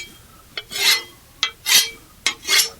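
A whetstone grinds along a scythe blade in three firm, evenly spaced strokes, each opening with a sharp tap and swelling into a bright rasping scrape, close and clear with no talk.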